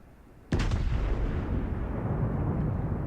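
Warship main-battery guns fire in the World of Warships naval combat game, a sudden booming salvo that hits hard and then rolls into a long, sustained rumble with no voices over it.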